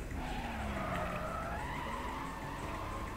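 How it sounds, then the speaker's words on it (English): A Toyota Supra in the racing game Need For Speed World skids through a handbrake turn, a loud sustained tire screech with a sliding pitch over the engine drone, lasting the whole few seconds without speech. "Let's try a handbrake turn."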